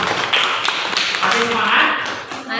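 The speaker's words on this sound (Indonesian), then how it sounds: "Ya, tepuk tangan dulu." Students applaud in an Indonesian classroom, quick uneven handclaps with a few louder taps near the front, while voices murmur and talk over the clapping throughout.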